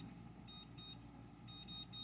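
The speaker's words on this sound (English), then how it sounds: "But now we're going to set our timer" Short electronic beeps from a kitchen timer being set for kneading pizza dough, a few quick chirps in two small bursts, fairly faint against a low room hum.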